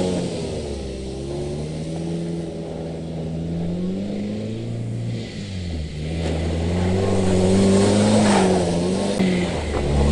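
A rear-wheel-drive Mazda roadster spins donuts in snow, its mid-pitched engine revving steadily and rising and falling in pitch as the car circles, fairly close and loud throughout, with no talk.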